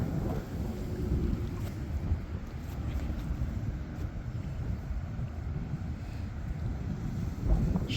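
Small MHZ 655mm RC hydroplane powerboat running on open water against the wind, giving a steady continuous motor and hull rush mixed with wind buffeting on the microphone, fairly loud throughout with no talking.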